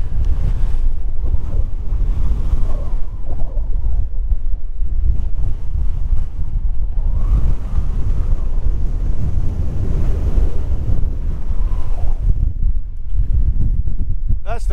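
Strong gale-force wind on a hilltop in remote southeastern Western Australia roars and buffets the microphone in loud, rumbling gusts, with a constant rush like surf underneath.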